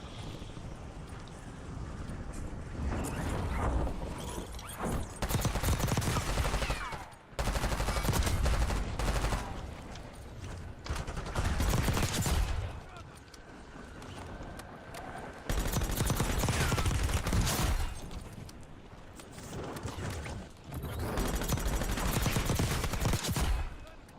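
Rapid automatic fire from a close-range, SMG-like weapon in the video game Call of Duty Warzone comes in several long, loud bursts separated by quieter pauses.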